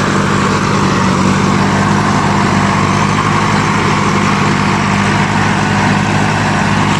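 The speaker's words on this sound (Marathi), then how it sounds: "हे बघा ट्रॅक्टर हळूहळू पुढे जात आहे" A 4WD mini tractor, either a Swaraj Target 630 or a Massey Ferguson 6028, pulls a rotavator through a field, its engine droning loud and steady with a continuous churning rumble and no pauses or voices.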